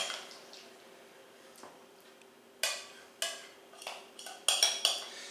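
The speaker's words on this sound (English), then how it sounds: "And then spoon the cheese mixture on top of the pie." Spooning a cheese mixture onto a biscuit-crust tomato pie: a series of light metallic spoon clinks and scrapes against a dish, growing more frequent toward the end, close and quiet with no talk.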